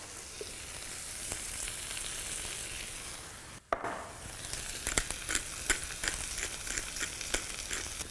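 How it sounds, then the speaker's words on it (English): Salmon frying in a very hot pan, a steady close hiss of sizzling oil that briefly drops out, then returns with sharp popping spatters and crackles. "And my pan feels very, very hot and it's ready for the salmon"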